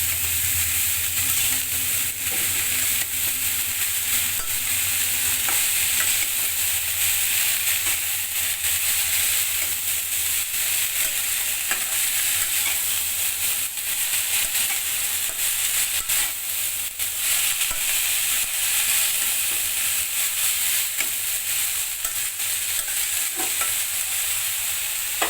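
Cabbage being stirred and mixed with rohu fish head in a frying pan, a steady sizzling hiss with soft scraping stir strokes throughout, continuous and close.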